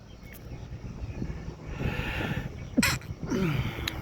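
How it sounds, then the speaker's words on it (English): A single sharp sneeze bursts out near the end, followed by a brief snorting exhale, over steady outdoor wind noise. "Sneezes."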